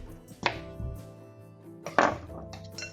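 Knife chopping the ends off a vegetable on a cutting board, two distinct close cuts about a second and a half apart, each a crisp thunk.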